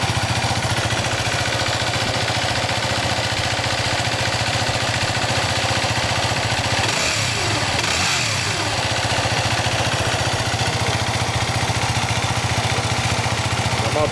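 A 2008 Yamaha WR250R motorcycle engine idles steadily and close by after an oil change, a continuous even putter with a brief faint rise partway through.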